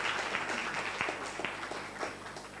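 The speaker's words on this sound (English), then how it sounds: "A round of applause for Elena, please." Brief, fairly quiet applause for speaker Elena at a roundtable event on private sector capital for sustainable development, a few seconds of scattered clapping over a low background hum.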